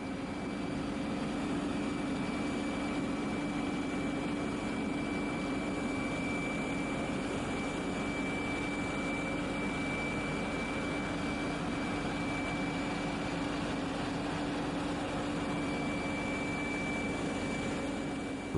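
A steady, continuous Boeing 737 Classic jet engine roar with a high whine, holding at constant loudness throughout, close and without pauses.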